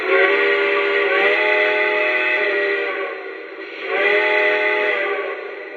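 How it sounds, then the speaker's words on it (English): A Lionel Legacy Conrail T1 #2101 model train sounds its steam whistle in two long, loud, sustained blasts, the first dipping briefly before the second, with no talk over it. "demonstrate the 5 whistles that this engine has"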